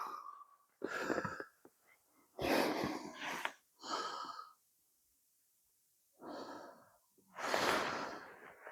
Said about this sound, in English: if she commences to graze right now, she's just sniffing